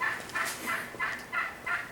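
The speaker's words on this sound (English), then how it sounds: "Oh, those turkeys are going nuts." Wild turkeys gobble down by a creek, several rolling calls in a steady rhythm, a little distant but clear, with no talk over them.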